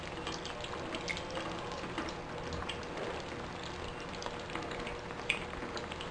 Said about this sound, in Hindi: एक तरफ से अच्छे से फ्राई हो चुका है